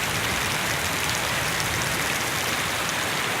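Heavy rain pours steadily in Ichoda, Adilabad District, a dense, unbroken hiss that stays loud and constant throughout with no voices.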